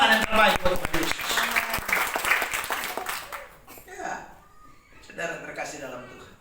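Loud applause from a church congregation fills the first few seconds, then fades as a preacher starts speaking.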